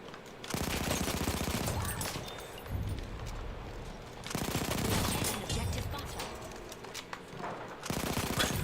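Rapid automatic gunfire in a Battlefield 1 gunfight, loud sustained bursts of machine-gun fire broken by short pauses, close and dense.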